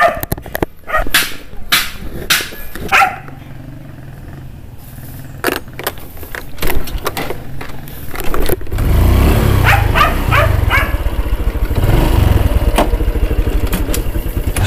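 A second-hand motorcycle heard up close: scattered clicks and handling noises, then the engine starts and settles into a steady, loud idle rumble.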